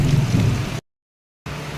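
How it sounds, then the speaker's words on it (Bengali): Heavy rain with thunder, a dense low rumbling wash of rain that cuts out briefly and then resumes, heard close and loud with no voices. "কি বৃষ্টি হচ্ছে বাবারে, বাজ পড়ছে,"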